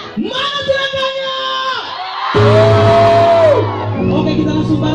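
An audience at a family trio show in Sumba Timur shouts and whoops together in long sustained bursts, loud and near, with a voice rising over the crowd between calls.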